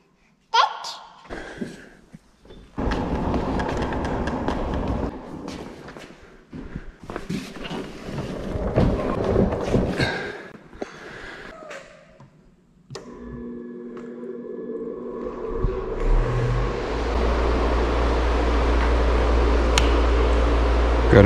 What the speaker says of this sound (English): V8 rumble, V800, not actual V8.